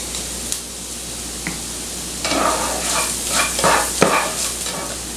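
Onions and garlic frying in a pan, a steady hiss of sizzling with intermittent scraping and clacking of a utensil stirring, growing busier midway.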